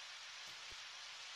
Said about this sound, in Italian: Qua piove ancora.